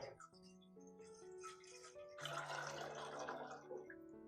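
Four cups of water pour into a pot on a stove for hummingbird nectar. It is a faint, close trickle with a ringing tone that shifts in pitch as the pot fills, then a brief splashier burst.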